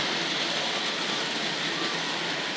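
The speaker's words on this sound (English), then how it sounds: "Storming along there with the mail train." A Tri-ang Hornby model railway mail train runs along its track, a steady, even rushing rumble with no breaks and no talk.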